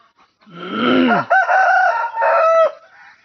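A rooster of a fine-plumaged country breed crows once, loud and close, in a full drawn-out call rising, holding and trailing off over about two seconds, with no other sound around it.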